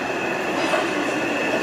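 Thameslink 12-coach train running between London Bridge and Farringdon, a steady close rumble of wheels on rails with a sustained squealing whine, no voices.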